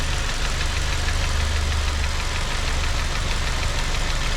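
A 2006 Ford Focus ZX4 engine with a P0193 fault code idles with a steady, close, even rumble and a faint ticking texture, with no voices.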